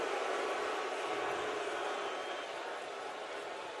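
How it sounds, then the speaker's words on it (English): An NFL crowd at a Tennessee Titans vs Indianapolis Colts game voices its displeasure with a ball spot, a steady, dense roar of stadium noise that eases slightly toward the end. "Crowd doesn't like the spot."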